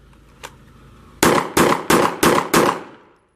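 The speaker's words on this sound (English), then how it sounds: "you'll engage the target with 5 rounds standing, 6 seconds" Five gunshots ring out standing from the 7-yard line at a target on a shooting range, sharp evenly spaced loud reports in quick succession after a faint click, then silence.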